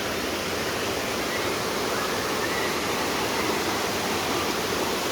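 Wang Takrai waterfall in Nakhon Nayok, Thailand, pours in a steady, dense roar of rushing water that fills the whole clip at an even, close level with no pauses.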